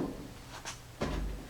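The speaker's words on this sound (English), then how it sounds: "I'm going to pop this trim piece off" A plastic trim piece on the door of a Jeep J10 pickup being pried and popped loose, two brief clicking snaps about a second apart, close and fairly quiet.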